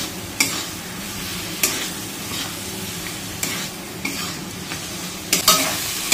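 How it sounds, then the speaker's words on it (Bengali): Spice masala frying gently over a low gas flame in a pan with potatoes, a steady sizzle broken by several sharp scraping strokes of a spoon stirring it, close and loud, with no talking. "গ্যাসটা কমিয়ে নিয়েছি, এই হালকা ভাবে মশলাটা ভেজে নেব।"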